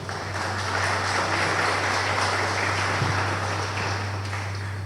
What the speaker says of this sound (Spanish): Vamos a recibirlo, por favor, con un fuerte voto de aplausos.